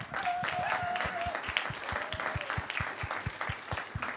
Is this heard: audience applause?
yes